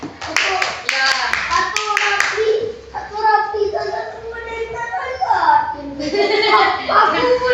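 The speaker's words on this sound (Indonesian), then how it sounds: "Ya, tepuk tangan untuk Kenzi jawabnya." Schoolchildren in a primary school religious lesson clap for a classmate in a few quick, sharp bursts of bright claps, then chatter and a teacher's voice carry on close by.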